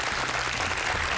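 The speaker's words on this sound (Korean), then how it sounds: "훌륭한 대답 박수 한번 보내주시죠." Dense, loud applause from a studio audience at a televised Korean science lecture event, a continuous wash of many hands clapping at once with no break.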